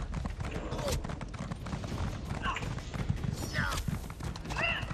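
Horse hooves in The Elder Scrolls Online clatter in a steady trotting rhythm over a busy background, with faint scattered voices.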